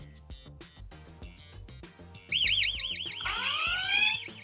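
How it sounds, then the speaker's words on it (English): A loud motion-triggered wireless home security alarm siren bursts in after a run of soft clicks and knocks, then wails in a fast, rising-and-falling warble that keeps blaring close and steady to the end. "And there it goes, triggers the alarm system."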